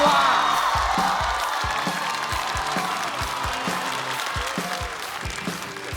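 A studio audience at a stand-up comedy competition applauds and cheers to welcome a comedian onto the stage: loud, sustained clapping with whoops, slowly easing off, over a rhythmic low thumping beat.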